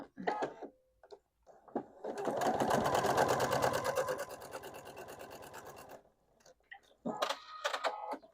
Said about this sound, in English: So just going to sew down 1/4 inch on that side.